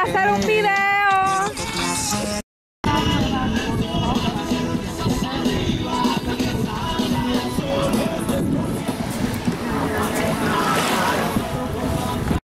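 An emergency boat on a cruise shore excursion runs loud and steady across the water, with a constant rush of engine and spray. Faint voices can be heard beneath it.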